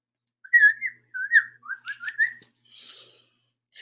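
A person whistles an imitation of birds singing at dawn, a run of short, bright chirping trills with brief pauses, close and clear, followed by a breathy puff.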